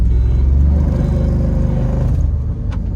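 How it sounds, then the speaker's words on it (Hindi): A remapped Skoda Kushaq launching in a drag race, its engine roaring loud and close with a deep, steady rumble that strains on and eases slightly near the end. "और हल्का सा लॉन्च लेट हुई हमारी गाड़ी"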